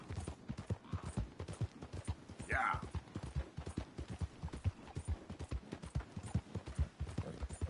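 Horse hooves clip-clop in a steady, close rhythm through Red Dead Redemption 2, with a brief snort or whinny partway and a voice speaking softly over the steps.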